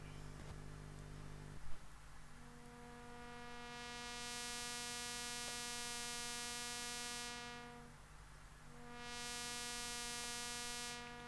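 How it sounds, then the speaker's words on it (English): A steady analog oscillator tone runs through a Korg MS-20 low-pass filter clone, the cutoff sweeping so the brightness swells open and closes in slow waves over a constant low hum, with no voices. "we can start to hear the tone from the oscillator starting to come through"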